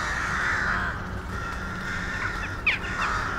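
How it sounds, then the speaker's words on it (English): Jackdaws call from a flock, a chorus of short, sharp caws and chattering over a steady outdoor background, with one louder call standing out near the end. "The jackdaws are the smallest of the crow family."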